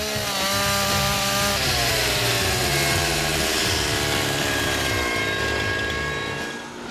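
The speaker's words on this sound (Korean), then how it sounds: "전기톱을 어떻게 이렇게 정밀하게 자르세요?" A chainsaw roars steadily through solid timber at a wooden-house workshop, its engine pitch shifting and dropping as the blade bites in, loud and close with no talking.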